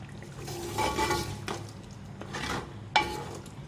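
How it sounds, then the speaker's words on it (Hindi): Meat pieces being stirred into fried masala in a pot, with scraping spoon strokes and clinks of metal on metal at uneven intervals over a light sizzle, close up and moderately loud. "मिक्स कर देंगे इसको मसाले के साथ"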